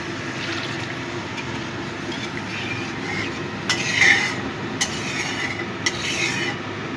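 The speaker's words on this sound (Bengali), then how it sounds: "এবার আমি দিয়ে দিচ্ছি গরম জল।" Hot water poured into spices frying in oil for a thin pabda fish curry: a steady hiss and wash of liquid held at an even level, with a few brief clinks of utensils on the pan.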